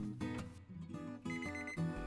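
A kitchen timer goes off at the end of a 45-minute proof of chilli and cheese bread, sounding a series of bright, repeated electronic tones in a short melodic pattern, fairly close and clear.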